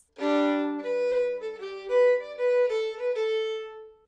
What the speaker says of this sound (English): All I'm doing is I'm adding a double stop to the first note of the tune.